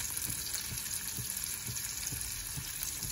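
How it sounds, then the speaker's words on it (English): Onions, peppers and tomatoes fry in a pan with spice, a steady close sizzle and crackle holding throughout, with soft bubbling and faint low knocks of stirring underneath. "the onions, the pepper and tomatoes are doing really nicely"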